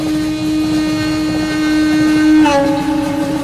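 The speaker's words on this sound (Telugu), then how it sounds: "ఈ ట్రైన్ ఎక్కడికి వెళ్తుంది?" A train rolls along loudly and close, with a steady sustained tonal drone that shifts pitch near the end over continuous rumbling noise.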